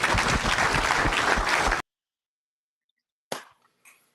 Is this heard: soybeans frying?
no